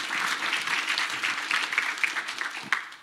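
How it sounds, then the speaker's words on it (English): An audience applauds after a panel Q&A at a documentary film screening; steady, dense clapping from a sizable crowd, fairly close, sustained throughout with a few sharper individual claps standing out near the end. "And round of applause"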